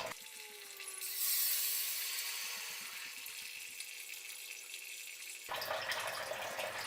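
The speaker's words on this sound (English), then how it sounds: "There's just a little bit of trickle down in the sump." Water trickles and splashes into a basement sump as a 75-gallon gas water heater tank drains, a soft continuous wash that swells briefly early on, then settles into a low steady flow with a brighter surge near the end.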